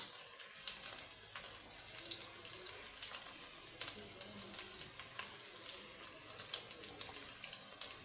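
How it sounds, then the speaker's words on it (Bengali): Spice paste for biryani frying in a pan, a steady bright hiss and sizzle running throughout with small crackling pops, close and even in level, no talking. "মশলাটা ভালো করে কষিয়ে নিব।"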